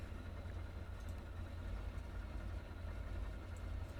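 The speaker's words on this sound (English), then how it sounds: "we're now going to stand by to start the left engine" Ford Trimotor aircraft's left radial engine turning over and idling, a steady, loud, low rumbling drone with constant vibration throughout and no talk.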